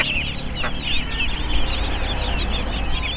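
Chickens clucking steadily in a village yard, a dense chorus of several birds close by, with no talk over them.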